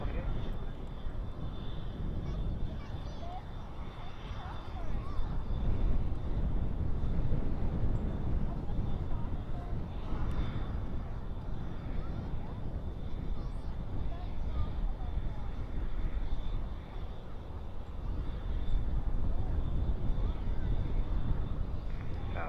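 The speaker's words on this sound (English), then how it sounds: "that was the British Airways A380 departure" A British Airways A380 departs at night, its jet engines producing a broad, steady roar that swells and holds for a long stretch, with wind buffeting the microphone.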